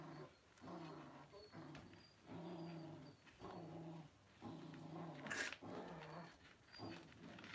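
Two dogs growl and whine nearby in repeated low rumbling bursts with short pauses between them, ongoing and fairly quiet, with no talking.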